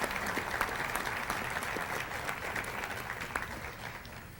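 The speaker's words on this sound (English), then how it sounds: "Please join me in giving them a warm round of applause." Warm applause from a banquet audience at a sports hall of fame ceremony, steady dense clapping sustained throughout, moderately distant in a large room.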